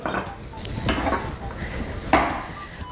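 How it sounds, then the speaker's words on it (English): Butter hisses and crackles steadily in a frying pan over a low flame, with a few light clinks of a utensil against the metal. "and let it start sizzling"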